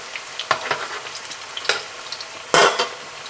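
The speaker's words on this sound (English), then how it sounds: "we're gonna get to frying these up" Green bananas sizzle and crackle frying in a hot pan, with scattered pops and a louder stirring scrape near the end; no talking.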